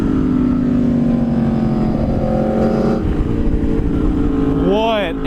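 A 2023 Aprilia Tuono V4 Factory motorcycle engine runs loud and close, a strong steady drone that builds slightly in pitch, with a rising rev near the end.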